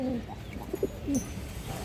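A breeding pair of pigeons coo softly in low, throaty bursts, a few short calls spread across the moment against a quiet room hum.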